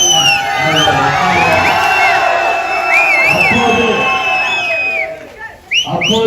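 A large crowd at a political rally roars loudly and continuously, with whoops and shrill whistles over the din, then dips briefly before another burst near the end.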